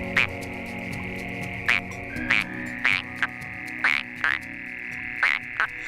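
Frogs and toads at a pond give sharp, rising croaks about every half second to second, loud and close over a low steady background chorus.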